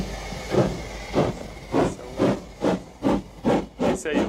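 Rhythmic chugging of a train sound effect, eight evenly spaced hissing puffs that speed up slightly, loud and close with no talk.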